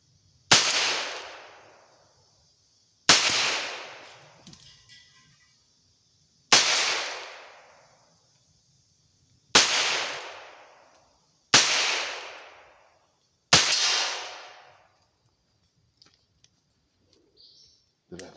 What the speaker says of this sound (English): let's get on to the shooting